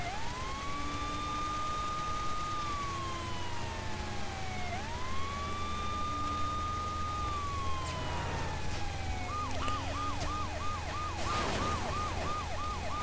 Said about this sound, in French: Oh, je suis une voiture de police